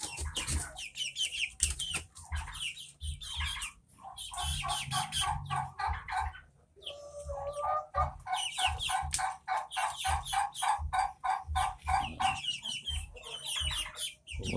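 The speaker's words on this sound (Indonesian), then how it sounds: "Ini anak ayam belum putih." A flock of young white Pelung chickens keeps up busy, continuous peeping and clucking close by, with rapid chirps overlapping throughout and no talk.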